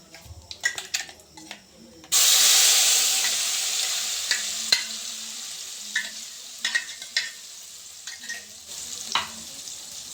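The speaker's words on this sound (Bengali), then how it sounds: "মশলাটা একটু ভাজা ভাজা করে নেব" Spices hit a hot pan with a sudden loud sizzle that slowly eases, while a utensil clinks and scrapes in irregular stirring strokes throughout.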